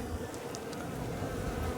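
Honey bees buzzing inside a winter hive during a late-December inspection, a steady low drone that holds evenly throughout at a moderate level, with no talking.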